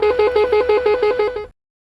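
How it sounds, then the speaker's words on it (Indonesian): A universal telolet echo horn with eight sounds pulses in a rapid, evenly spaced series of about ten loud bright tonal bursts, then cuts off sharply into silence. "aku mau bahas tentang klakson Gema 8 suara, suaranya eco gitu ya guys"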